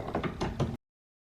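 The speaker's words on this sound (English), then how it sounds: "then we tighten these two bolts that are number 10" Metallic ratcheting clicks, about six in quick succession, come from tightening 10 mm bolts on the door window of a 2011-2013 Hyundai Sonata Hybrid, close and brief, then cutting off to silence.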